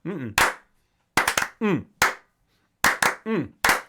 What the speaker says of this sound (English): Do a slow clap for that.